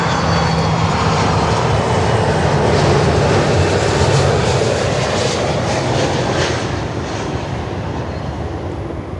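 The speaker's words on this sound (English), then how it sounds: "through arrival is a heavy Airbus, runway 9er, cleared to land" A heavy Airbus A330-200 jet landing at Miami airport, its engines roaring loud and steady throughout, a broad continuous rumble that eases slightly near the end.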